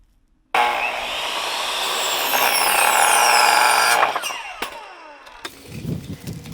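A power saw rips through a wooden board being cut to length for a raised bed trellis, a loud sustained buzzing cut lasting over three seconds, then the blade winds down with clattering wood and handling noise.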